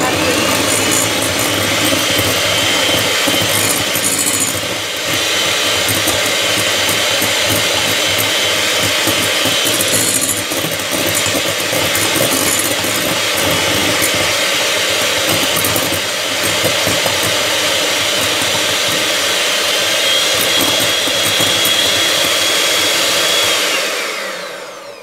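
An electric hand mixer beats egg yolks with a little salt, buzzing loudly and continuously with a rattling, grinding texture before stopping abruptly near the end.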